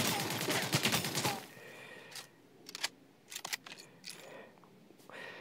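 Gunfire in the battle royale game Omega Legends opens with a rapid, loud burst of automatic shots, then gives way to scattered sharp single cracks and short volleys at varying distances.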